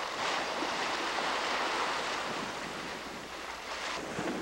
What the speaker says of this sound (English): We have an amazingly beautiful day, plenty of wind, the rollers on our stern.